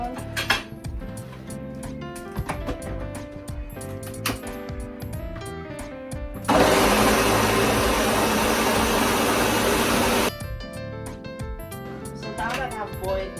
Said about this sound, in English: So I'm going to blend my tomatoes,